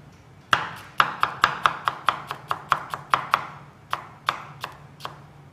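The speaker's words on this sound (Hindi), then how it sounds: "हमारे पास खीरा भी हमने कट कर लिया।" A knife chops cucumber on a cutting board for raita, giving about fifteen crisp, close taps. They start in a quick, even rhythm, then slow to a few spaced strokes, with no talking.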